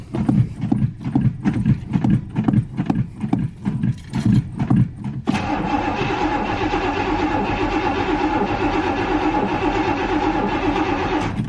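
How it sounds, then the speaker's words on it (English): A 1965 Pontiac Catalina engine cranking with a rhythmic chugging starter for about five seconds, then catching into a loud, steady idle. "Look at that, she cranks."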